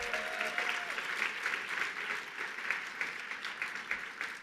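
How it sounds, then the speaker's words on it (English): A gala audience applauds an honoree, dense sustained clapping from a crowd that carries evenly through the whole moment at moderate distance. "Amanda Stenberg, let's give her a big round of applause."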